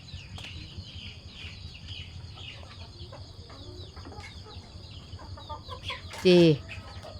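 Chickens clucking and calling around a house in a rural Thai yard, faint and intermittent over steady background noise, with one loud close squawk near the end; someone speaks briefly.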